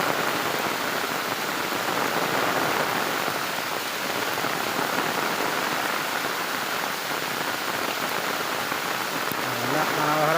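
A small village waterfall swollen by rain roars as a steady, dense rush of falling water, constant and close, with no other sounds over it.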